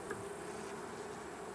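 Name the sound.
agitated honeybees buzzing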